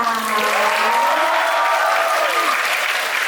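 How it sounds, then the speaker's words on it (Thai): Steady, dense applause from an audience at a fan event, continuous and fairly loud throughout, with a tonal sound drifting underneath. "ขอเสียงมาให้กับคุณจอยหน่อยค่ะ"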